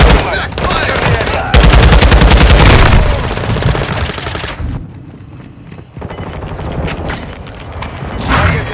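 Rapid automatic gunfire from Call of Duty MW2 on PS5, loud sustained bursts with booming shots, a brief lull, then more firing and game effects.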